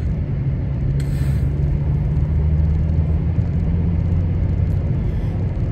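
A car driving home, with a steady loud road rumble and engine drone heard from inside the cabin, continuous throughout with no talking.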